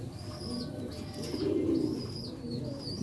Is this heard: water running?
no